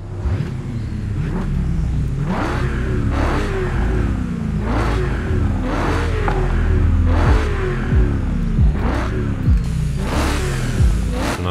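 A BMW E30 engine heard from inside the car in the racing game Forza Horizon 5, revving repeatedly with rising and falling pitch in a steady cycle of about nine pulls, loud and close, no voices.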